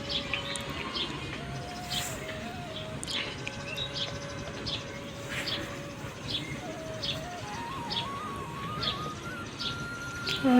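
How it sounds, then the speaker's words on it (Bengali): Birds chirp and tweet outside a window in a rural setting, repeated short calls and a sustained warbling song line over soft ambient noise, moderately near, with a faint cooing in the background. "আর কি সুন্দর পাখির কিচিরমিচির ডাক শুনতে পাচ্ছেন"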